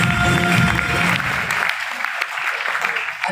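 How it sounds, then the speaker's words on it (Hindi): An audience at a youth-oriented talk event in India breaks into loud, dense applause for a speaker, strong at first and then thinning and easing off toward the end, with faint voices underneath. "मैं चाहता हूँ एक बार सर के लिए जोरदार ताली।"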